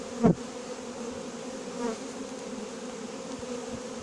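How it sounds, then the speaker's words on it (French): Honey bees swarming up into a new hive at a farm fill the air with a continuous close buzzing drone that rises and dips slightly, with individual insects passing near. "Les abeilles à fond, ça monte, ça monte."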